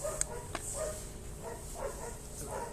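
Dogs bark outdoors, several short yaps and whimpers spread over a few seconds, fairly distant and faint against a steady background.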